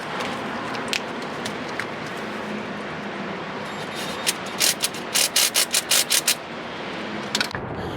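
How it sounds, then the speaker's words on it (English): A 3/4 inch hose clamp is tightened on a transmission cooler hose of a 1999–2006 Silverado/Sierra pickup, giving a quick run of rhythmic ratchet clicks over a steady background hiss. "then you want to get your hose clamp, 3/4 hose clamp, and go ahead and tighten that up real quick"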